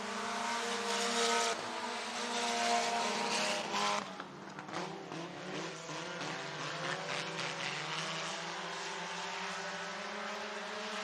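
Dirt-track race cars at Boone Speedway in Boone, Iowa, an IMCA event, roaring steadily past as a loud, continuous engine drone with shifting pitch, no talk.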